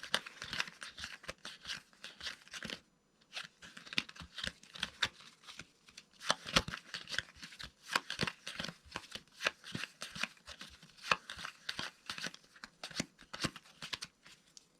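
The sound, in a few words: shuffling a deck of playing cards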